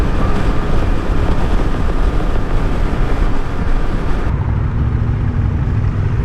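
A KTM 390 Adventure motorcycle cruising at about 60 mph, giving a loud, steady roar of engine and wind noise that continues without a break and drops slightly in tone near the end.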